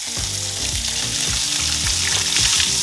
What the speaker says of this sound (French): J'en profite dans la même poêle pour faire cuire l'œuf au plat.